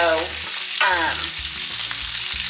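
Bacon frying in a home kitchen pan, a loud, close, steady sizzle with a few pops and scraping stirs.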